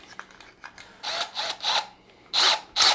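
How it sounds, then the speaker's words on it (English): Power drill whirring in repeated short bursts to strip braided fishing line off a spool mounted on a bolt with a washer, each burst a close, loud spin with brief pauses between. "then you're just going to put it onto your drill"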